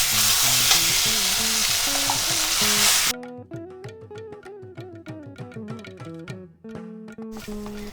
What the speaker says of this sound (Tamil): இதிலேயே வேக வச்ச கோதுமை ரவையை சேர்த்துடலாம்.